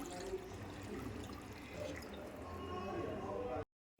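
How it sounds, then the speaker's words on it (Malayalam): Hot water is poured into a pot of Thiruvananthapuram-style chicken curry as a steady, faint rushing splash. It lasts a few seconds, then cuts off abruptly. "ചൂടുവെള്ളം ഒഴിക്കുവാണ്"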